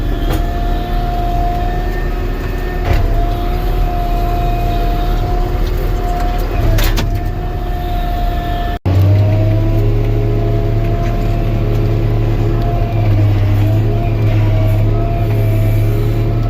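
A John Deere 648H skidder pushes through brushy ground, its engine a loud continuous drone with shifting tonal hum, briefly cutting out midway before the heavy rumble resumes.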